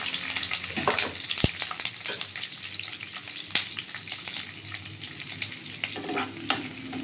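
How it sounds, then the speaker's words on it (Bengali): Onion and capsicum fry in hot oil in a pan, a steady close sizzle with occasional scrapes and clinks of a stirring utensil, moderately quiet and without any talking. "এই যে তেল দেখছেন, তেলের মধ্যে এই পেঁয়াজ আর ক্যাপসিকাম ছেড়ে দিলাম।"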